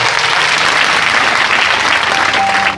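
A church congregation bursts into loud applause, dense steady clapping from many hands for a few seconds with no talk over it.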